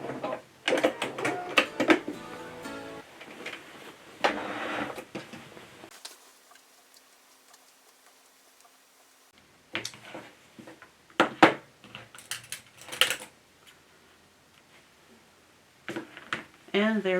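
A sewing machine stitches a pocket onto summer shorts in short, close bursts of rapid whirring and ticking, with a quiet gap midway and other handling noises between runs.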